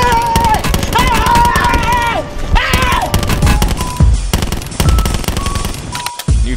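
Rapid automatic gunfire in the shooter game Black Ops 4, loud and nearly continuous bursts that rattle on for several seconds with thuds and game effects mixed in.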